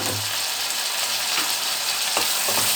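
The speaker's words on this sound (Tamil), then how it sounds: "வெங்காயமும் பச்சை மிளகா போட்டு நல்லா வதக்கணும்." Sliced onions and green chillies sauté in a hot pan with a steady, fairly loud hiss, while occasional soft scrapes of stirring rise above the continuous frying.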